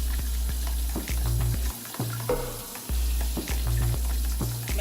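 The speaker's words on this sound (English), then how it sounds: "We're gonna stir it up" Beaten eggs, three of them, for an omelette, sizzle loudly in a pan while being stirred, with a dense close frying hiss and repeated knocks and scrapes of the utensil.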